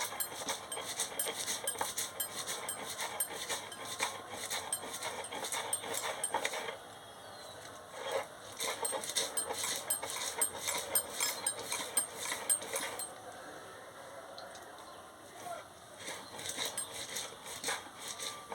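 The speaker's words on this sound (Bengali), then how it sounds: "এবারে আমি সরষাটাকে বেটে নিচ্ছি।" Mustard seeds ground by hand on a stone slab in a home kitchen, a steady, loud scraping and clinking rhythm that runs continuously with a couple of short pauses.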